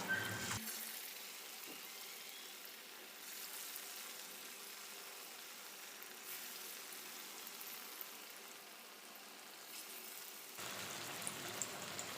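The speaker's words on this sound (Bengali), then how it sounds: "এইবার এই বড়াগুলোকে একে একে আমি এই সর্ষের তেলের মধ্যে ছেড়ে দিয়ে ভালো করে ভেজে নেব" Green banana kofta balls fry in hot mustard oil, a soft, even, close sizzle that holds steady throughout with faint bubbling and no talk.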